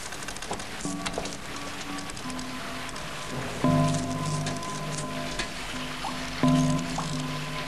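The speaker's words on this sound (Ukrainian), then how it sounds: "О, тече. Як дощ. Вже два роки тече." Steady patter of dripping water like rain, with a few louder splashes landing at intervals, no talking.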